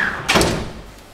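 A door in a rental house swings open with a short thud and rustle, fairly close and loud, with no talk over it.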